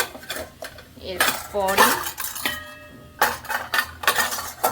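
Fried vegetables with egg, cooked together in a home kitchen, are tipped into a bowl with loud clattering of utensils and dishes and a few scraping knocks. A voice speaks briefly over the clatter.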